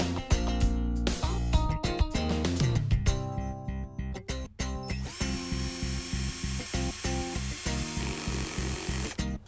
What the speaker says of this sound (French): La machine débraye dès que le couple sélectionné est atteint.